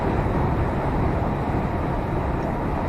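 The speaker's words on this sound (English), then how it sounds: "to excuse the noise of the wind against the windscreen" Wind roars in a constant, dense rush against a truck windscreen on a breezy day, filling the cab with a loud, unbroken noise and no talking.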